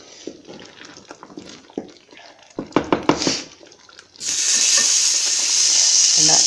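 Moringa leaf curry is stirred in a hot pan: a few soft scrapes and clinks at first, then a loud, steady sizzle that takes over for the final two seconds, close and without talk.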